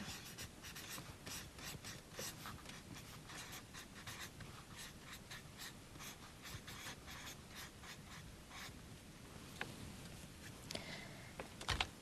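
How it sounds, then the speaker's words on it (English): Faint close-up scratching of a pen or marker writing out a trigonometric identity, quick repeated strokes in bursts over a quiet room, no speech. "I'll write the identity up here."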